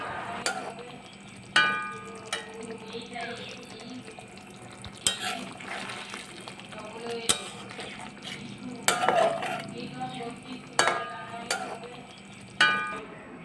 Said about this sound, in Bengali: আর এবার আমি একটু নাড়াচাড়া করে নিয়ে নামিয়ে নেব